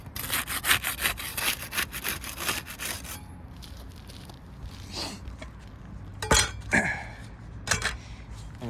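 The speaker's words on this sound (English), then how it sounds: "We'll use the putty knife to unseal the top shingle." A putty knife scraping and prying under roof shingles to unseal them, rapid rough scraping strokes at first, then scattered sharp scrapes and clicks, close by.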